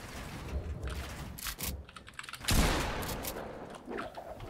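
Shotgun fire in a PC shooter game: a few sharp blasts with mechanical reload clatter between them, close and moderately loud, mixed with clicking from the controls and no talking.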